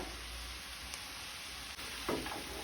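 Steady soft sizzle of taro leaf bhaji cooking with soaked peas and salt in a pan, a faint continuous frying hiss with a brief spoon-stirring scrape near the end, no voices.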